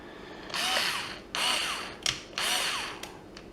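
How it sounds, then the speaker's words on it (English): A cheap cordless screwdriver whirs in three bursts of about a second each, a close, loud high-pitched motor whine with small clicks between the runs. "Get yourself a cordless screwdriver, it'll come in handy."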